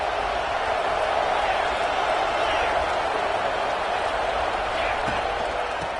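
A roaring football stadium crowd at a Virginia Tech game, loud enough to cause a false start. A sustained, dense wall of cheering and yelling holds steady at full volume for the whole stretch.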